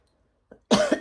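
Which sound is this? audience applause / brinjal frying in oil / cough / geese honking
cough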